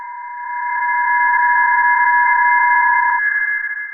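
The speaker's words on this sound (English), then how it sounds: "the sounds you can hear are multiple PSK31 signals" Several PSK31 radio data signals warble together as steady, close tones over about four seconds, one carrier trailing off before the end while the others hold on; no one speaks.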